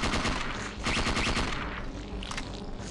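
Gunfire in the video game Parasite Eve 2, a dense, loud burst of rapid repeated shots running continuously with no speech.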